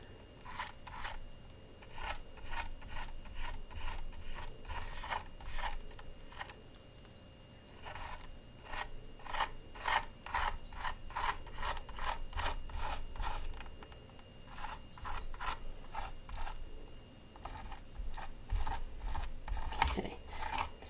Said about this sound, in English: I'm scraping this really, really thin.